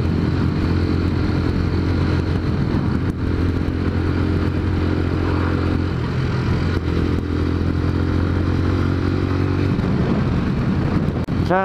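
A motorcycle engine runs steadily and loudly close by for the whole stretch, a constant droning hum with a brief clatter near the end.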